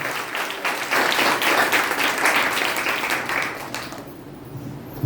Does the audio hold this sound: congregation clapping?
yes